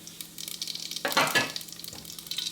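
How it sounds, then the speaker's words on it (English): Mustard and cumin seeds hit hot oil for a South Indian sambar, giving a loud burst of crackling sizzle that swells and then settles into a steady fry with no voices. "now I'm gonna start with the mustard seed and cumin seed together. Oil is hot."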